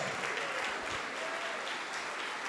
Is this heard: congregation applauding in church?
yes